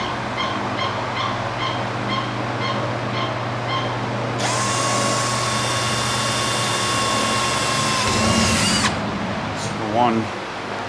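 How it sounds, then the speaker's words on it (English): A power drill with a 1/8 inch bit bores pilot holes during a wash bay cabinet install, a loud steady high whine that runs for several seconds and then stops, over workshop ambience. "So first thing I'll do is drill a couple of pilot holes"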